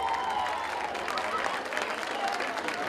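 A festival crowd at a peach fair concert applauds loudly, dense clapping mixed with cheers and voices filling the space close and steady.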